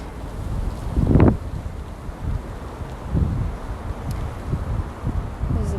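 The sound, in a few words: wind blowing into the microphone outdoors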